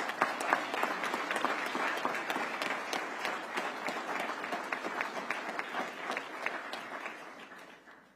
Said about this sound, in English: Give Officer Gary Ritter a round of applause